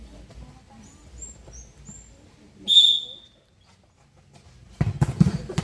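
One short, piercing coach's whistle blast sounds at mid-distance during volleyball practice, followed by quiet and then a burst of muffled activity noise.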